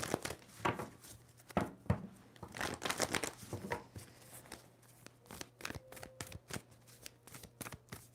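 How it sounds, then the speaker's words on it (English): Tarot cards riffle and slap in quick bursts, several separate shuffles with short pauses between them, close and crisp. "Two more shuffles for Virgo."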